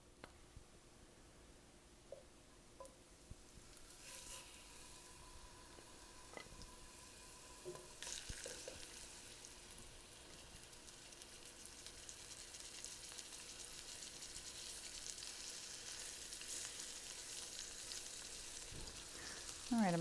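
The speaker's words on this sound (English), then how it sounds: "I don't know if there's anything better than frying up a pork chop in an iron skillet." Steady sizzling of pork chops frying in a hot iron skillet, a soft continuous crackle with occasional small clinks and pops.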